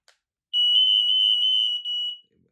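Two smoke alarms sounding together, one continuous shrill electronic tone lasting nearly two seconds with a brief dip near the end, loud and close, with no voices.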